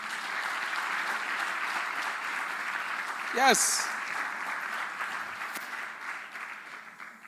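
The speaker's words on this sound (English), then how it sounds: "Please clap for the Dean like you mean it." Applause from an audience at a career expo launch, clapping for the dean: steady broad clatter throughout with a brief voice cutting in midway and the clapping thinning toward the end.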